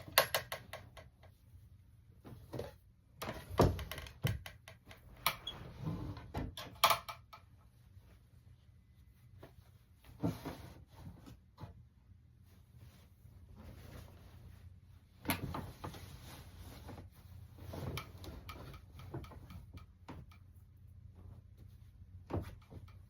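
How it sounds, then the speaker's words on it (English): Folded clothes and shorts are put back into a dresser drawer during a closet declutter: faint scattered clunks, rustles and wooden drawer knocks over about twenty seconds, quiet and close, with no talk. "I'm gonna put these back in the drawer and then put my shorts also back in the drawer"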